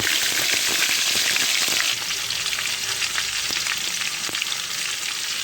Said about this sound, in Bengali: কড়াইতে তেল গরম হয়ে গেছে, এবার আমি পেঁয়াজ কুচি দিলাম।